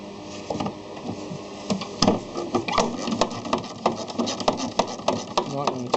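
Rapid ratchet clicking from a wrench on a long extension loosening bolts on an Astro van during a water pump job, in quick bursts of ticking with someone talking over it.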